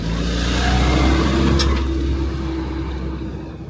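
Trucks drive past on a street in Iran, a loud rumbling engine swell that builds and then recedes as the vehicles pass close by, with street noise around it.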